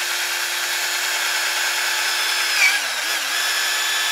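A Dremel drill bit grinds into Kydex polymer, a loud continuous high-pitched whine that stays steady throughout, dipping briefly as the bit bites in, with no talking.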